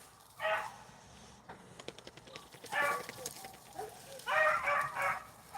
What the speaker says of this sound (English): There's the pup that was barking there a while ago.